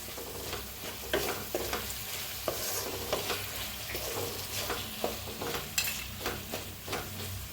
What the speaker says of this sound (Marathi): आता ह्याच्यात सगळं मिक्स करूया